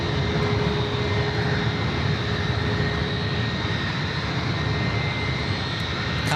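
A Condor Airbus A330neo jet in beige livery at San Francisco airport produces a steady, loud engine drone with a faint high whine running through it. It continues unbroken, and no one speaks.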